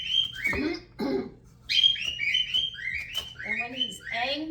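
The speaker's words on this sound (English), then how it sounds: "Would you believe he's a little tiny bird?" A tiny pet bird calls loudly at close range, a run of shrill chirps and whistled notes in quick bursts, with a faint low hum underneath.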